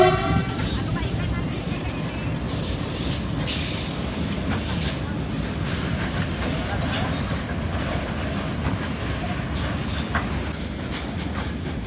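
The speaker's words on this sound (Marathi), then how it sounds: "हे ट्रेन आली ट्रेन आली" A train rushes past near a village ground in Chiplun, its loud rolling wagons clattering continuously and its horn blaring over the rumble, with people's voices faintly mixed in.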